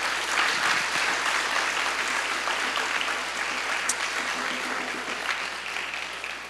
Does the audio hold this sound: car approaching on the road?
no